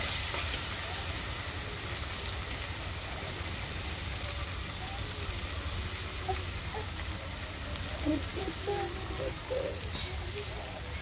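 Prawns frying in hot oil in a home kitchen, a steady bright sizzle with occasional stirring clinks and pops, fairly quiet, with voices talking faintly nearby.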